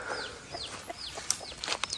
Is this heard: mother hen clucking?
yes